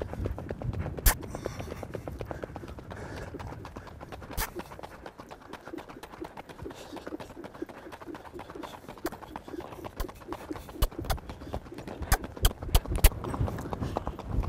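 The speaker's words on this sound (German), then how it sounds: "Und hier zum Abschluss noch mal eine Runde starkes Tempo tölt." Icelandic horse at a fast, strong tölt, hooves beating in a quick, even four-beat patter at moderate distance, with birds cooing in the background.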